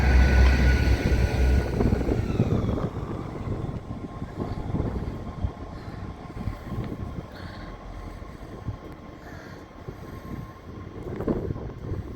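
A passenger train rushes past platform 1 at Peterborough station, a loud rumbling roar up close that slowly fades into wind buffeting the microphone.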